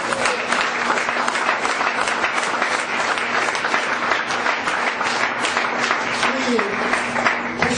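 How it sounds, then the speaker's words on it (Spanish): A church congregation applauds during a sermon, sustained dense clapping at an even level, loud and full, with a faint voice murmuring underneath. "Vamos a darle un fuerte aplauso."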